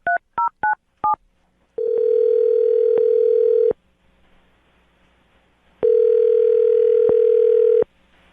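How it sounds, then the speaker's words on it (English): A telephone call being placed: four quick keypad tones, then two long, loud ringback tones separated by a few seconds of near silence. "I'm about to get her on the phone"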